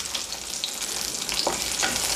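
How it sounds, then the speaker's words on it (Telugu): Green chillies and coconut pieces fry in a pan, giving a continuous close sizzle and crackle with light stirring and no voices. "ఇప్పుడు వీటిని దోరగా వేయించుకోవాలి చూసారండి పచ్చిమిరపకాయలు ముప్పావు వంతు వేగినాయి"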